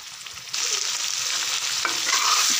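Ground masala paste frying in a pan for Bihari-style mutton curry, a steady close sizzle that swells suddenly as the paste hits the hot oil and keeps hissing with faint stirring, no talk.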